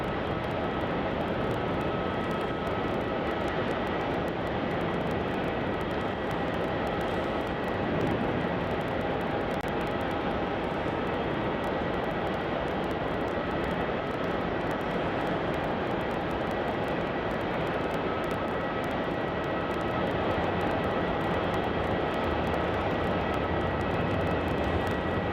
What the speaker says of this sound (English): we lost that Singapore A350 to runway 27. As you can see, they're taxiing down